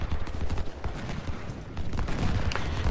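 Flanking gunfire in the Civil War strategy game Ultimate General: Civil War, a dense, continuous crackle of massed musket volleys, loud and close, rolling without pause.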